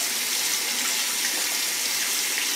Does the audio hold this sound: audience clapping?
no